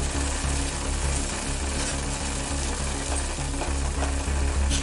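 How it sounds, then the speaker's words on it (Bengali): Salted water boils hard in a pot over a high gas flame for street-style noodles. It makes a loud, steady, close roar with a low rumbling bubble that never lets up. "জলটা ফুটছে"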